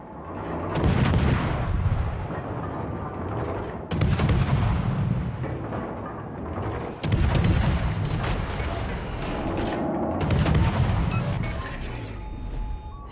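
Naval artillery fire in a warship video game, with the ship Brindisi as the target: loud booming salvos at a few-second intervals, each followed by a long rumbling roar, and faint talk underneath.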